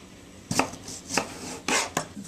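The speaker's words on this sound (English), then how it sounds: "what I'm going to do is I'm going to slice them to increase surface area" Knife slicing through potatoes on a cutting board while preparing stuffed pork loin: four sharp, separate cuts with short pauses between them, close and fairly clear, with no talking.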